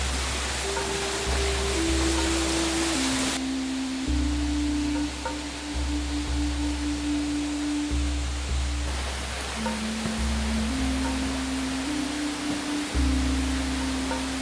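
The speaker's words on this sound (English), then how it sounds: "sounds like there's a waterfall or something." Small waterfall inside a cave at Pinnacles National Park: a constant, fairly loud rushing wash of falling water fills the whole stretch, with low steady humming tones running beneath it and no talk.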